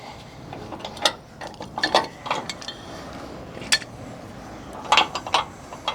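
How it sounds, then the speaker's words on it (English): Metal clicks, clunks and ratcheting turns come from a Jayco caravan hitch as the handbrake is released and the jockey wheel is wound out, scattered close mechanical clinks over a low steady background with no speech. "Now that the chains are on, I'll take the handbrake off. I'll take this jockey wheel out completely as well."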